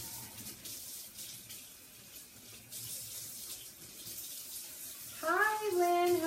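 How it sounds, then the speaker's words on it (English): Water runs from a faucet into a sink, a steady soft splashing hiss that continues at low level before a louder, tonal sound takes over near the end. "She could even just stick it in some water in the sink."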